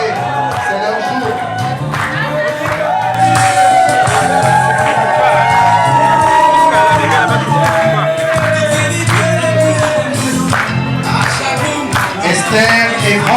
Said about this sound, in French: est-ce qu'on peut applaudir très fort pour eux s'il vous plaît?